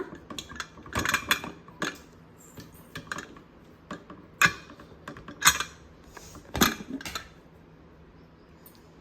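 A metal lid lifts off a pot of country chicken curry (naatukodi pulusu) after the stove is turned off, giving a scattered series of light clinks and clacks at close range.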